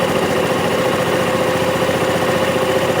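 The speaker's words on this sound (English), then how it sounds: "You need to rotate it and increase the RPM. As you have heard, the RPM is now increased." An engine runs at raised RPM after its adjustment screw is turned, giving a loud, steady, close mechanical drone with a constant pitched whine and no pauses.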